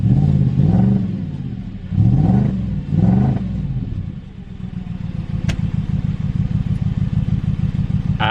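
An Audi S4 Quattro engine revs in three sharp bursts that rise and fall, then settles into a loud, steady, lumpy idle with a rhythmic clatter. It is close and sounds alone.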